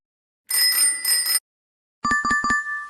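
A bicycle bell rings in two bursts, first a sustained double ring, then after a pause a quick run of three or four bright metallic dings, close and clear with no talking.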